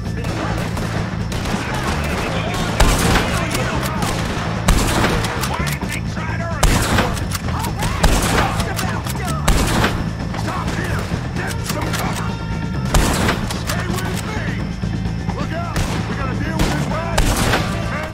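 Rapid bursts of gunfire from Red Dead Redemption 2 crack repeatedly over a continuous background of game sound, with sharp shots landing every couple of seconds.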